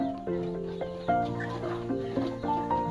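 Aseel chickens on a terrace farm cluck and call close by in steady overlapping bursts, with several birds sounding at once and no speech.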